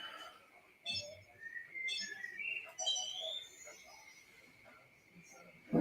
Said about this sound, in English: There's a super fucking noisy bird out there.